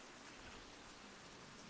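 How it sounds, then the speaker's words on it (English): Steady rain falls outside as a soft, even hiss with no distinct drops, very faint and constant throughout, with no voices. "water coming from the sky tells me it's raining"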